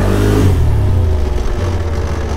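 A car engine with failing engine braking revs loudly as gas is pushed, a close, steady rumbling drone that eases slightly and holds through the short stretch.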